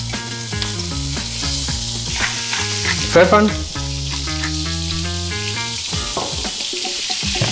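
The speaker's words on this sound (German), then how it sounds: "Jetzt machen wir hier unseren Fisch mit dem Speck in die Pfanne." Fish and bacon sizzle and crackle steadily in a frying pan while spaghetti carbonara is cooked, with someone speaking German over the frying and a brief clatter of utensils partway through.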